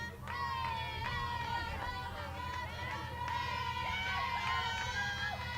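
A small fan club cheers from the stands at a college softball tournament game, a steady crowd roar with raised voices, while an announcer talks over it throughout.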